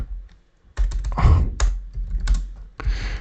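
Quick bursts of keystrokes on a computer keyboard, close and clicky, separated by short pauses, with no one talking.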